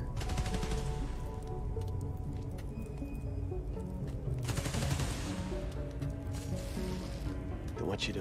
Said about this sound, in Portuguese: Atirando nos transformadores.